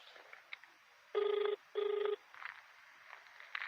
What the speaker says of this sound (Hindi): घंटी जा रही है